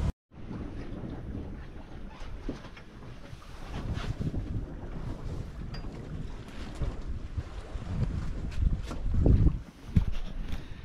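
A sailboat under sail with the engine off, wind buffeting the microphone over a steady rush of water along the hull and waves, with no talking.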